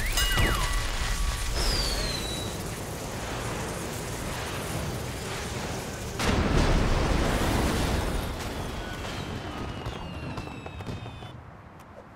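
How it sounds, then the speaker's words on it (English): A giant firework bursts in the LEGO Ninjago Movie video game, a loud sustained roar of explosion and crackling debris that swells again midway, with whistling streaks overhead and no talking. "A giant firework!"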